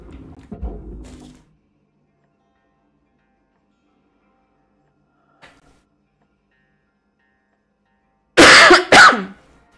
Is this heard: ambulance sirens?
no